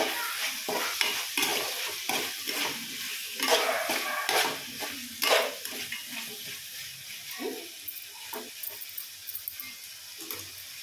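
Egg pulao with beans and carrots is stirred in a pan, a spoon scraping and clinking through the rice in an irregular rhythm over a soft, steady sizzle, close and fairly loud with no voices.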